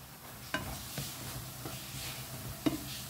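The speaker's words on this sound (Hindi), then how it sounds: "तो अब इसको ना ढककर ना टमाटर को कुक करते हैं।" Tomatoes cooking uncovered in a pan, a soft steady sizzle with a few scattered clinks of a spoon against the pan, no talking.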